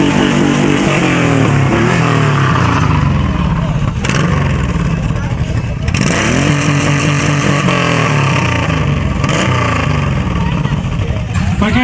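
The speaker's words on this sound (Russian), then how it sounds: "мотоцикл работает на холостом ходу" At a bikers' rally, a motorcycle engine runs loud and close, idling with a steady rumble and occasional swells, while someone talks over it.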